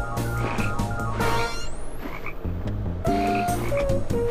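Repeated frog croaks from the video game Tasty Blue sound in quick, rhythmic bursts over game music, joined by a rising electronic sweep and other game effects.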